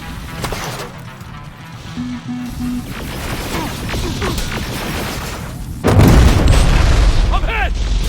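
Pipe bomb blast in Terminator: Resistance during a firefight with a machine army: a sudden loud booming explosion near the end, preceded by gunfire and voices.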